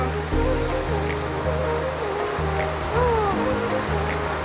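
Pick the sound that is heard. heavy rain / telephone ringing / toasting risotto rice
heavy rain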